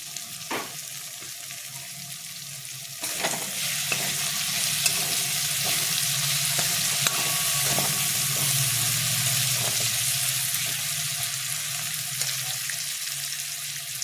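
Chopped capsicum hits a hot pan for paneer bharta: a quiet stretch, then a sudden loud sizzle that keeps going, with repeated scrapes and clinks of stirring and no voices.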